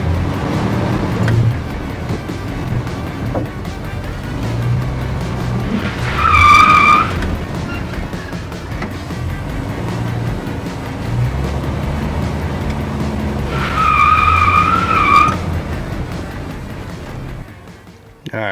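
A Jeep YJ 4x4 with stock suspension climbs onto homemade flex ramps, its engine droning loudly and steadily throughout, with two brief whining surges of revving or tire strain before the sound cuts off abruptly.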